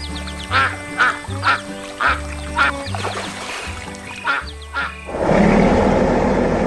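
Geese on a lake in a cartoon give a series of loud nasal quacking honks in a steady rhythm over backing music, ending in a splashing, pouring water sound.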